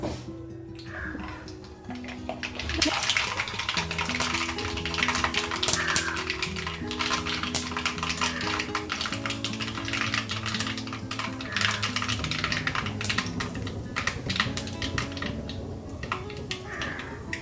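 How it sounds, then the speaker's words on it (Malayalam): Mustard seeds popping and crackling in hot oil in a pan, a dense rapid run of sharp sizzling pops that keeps going throughout, with no talk over it. "എണ്ണ ചൂടായിട്ടുണ്ട്, നമുക്ക് കടുകിട്ട് കൊടുക്കാം."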